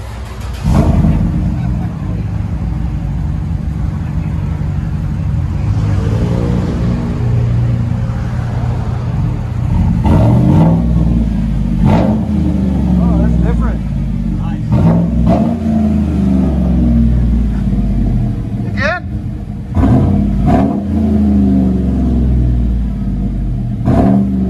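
Chevy/GMC truck with a 5.3L V8 and a loud exhaust ending in 5-inch tips, revving repeatedly in close, deep throaty bursts over a steady idle rumble, with voices talking in the background.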